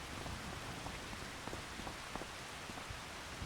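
Steady rain falling in a soft, even hiss with scattered faint droplet taps, distant and unbroken throughout.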